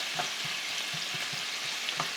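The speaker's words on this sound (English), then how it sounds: "I think one of my favorite things is smelling onion and garlic together in olive oil" Onions and garlic frying in olive oil for vegetarian spaghetti sauce, a steady close hiss of sizzling with a few soft scraping stirs, no talking.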